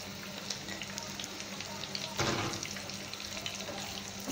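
Fish kababs frying in a pan, a steady broadband sizzle running throughout at close range, with a brief louder burst of crackling near the middle and faint clinks over the hiss.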